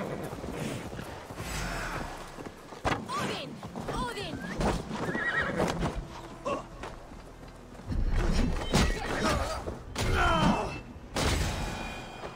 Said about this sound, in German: Warum kommt das Pferd auch immer mit?